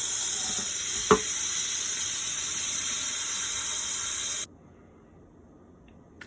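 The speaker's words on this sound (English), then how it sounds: "now I'm going to run cold tap water over the shrimp for 30 minutes or so" Cold tap water runs over cooked shrimp in a small bowl in a kitchen sink, a steady close hiss that stops abruptly near the end, followed by quiet.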